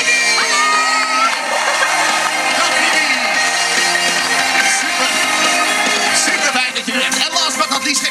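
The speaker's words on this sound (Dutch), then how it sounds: "Geef ook haar een dadelijk applaus" Audience at a street show opening at Walibi Holland cheering and whooping for a singer, a loud crowd roar with shouts over band music, continuous and close.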